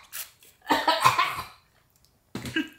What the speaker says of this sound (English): Is that why you're coughing?